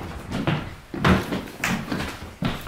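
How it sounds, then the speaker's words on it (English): A door handled nearby at home, with several sharp knocks and thumps spaced unevenly over a few seconds, close and fairly loud, with no talk over them. "Why'd you shut that door in my face?"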